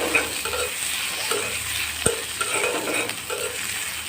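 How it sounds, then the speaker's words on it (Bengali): Chopped onions fry in oil left over from frying katla fish, giving a steady close sizzle with soft stirring scrapes and one sharp clink of the utensil partway through. "মাছ ভাজা তেলে আমি দিয়ে দেবো পেঁয়াজ কুচি, দিয়ে দিলাম পেঁয়াজ কুচি"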